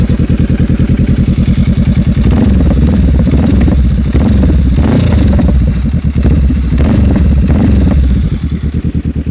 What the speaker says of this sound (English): Really nice tone on that Lextech exhaust.